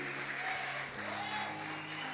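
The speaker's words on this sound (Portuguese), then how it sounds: "Alguém aplaude ao Senhor e diga amém." A church congregation applauds, producing a steady wash of clapping that blends with sustained organ-like tones and a faint voice.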